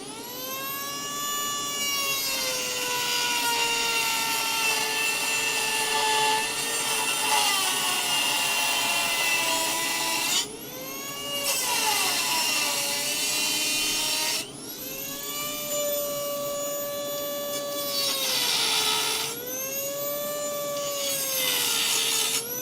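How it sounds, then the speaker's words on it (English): A Dremel rotary tool grinds through the rusted steel floor of a car, giving a loud, steady high-pitched whine that dips and climbs in pitch as the bit bites in. It cuts out briefly twice and starts again, with no talk over it. "That's where the Dremel's gonna come in handy again"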